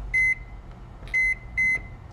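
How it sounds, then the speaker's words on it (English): Microwave oven being set to one minute and started, giving three sharp electronic beeps in a short, evenly spaced run over a low background hum of a running fan and deep freezer. "You want to run a microwave? Let's try a microwave."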